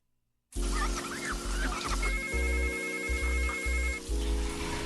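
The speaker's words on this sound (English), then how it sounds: "Oh, Jill, get the phone." A telephone rings on a radio talk show, its repeated electronic ring pulses loud and steady over a background hum.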